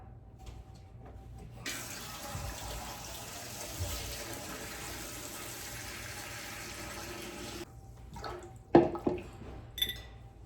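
Tap water runs steadily into a Presto pressure canner, being filled to its maximum fill line for use as a water bath canner; a constant splashing flow lasts about six seconds, followed by a few louder clanks and drips as it stops.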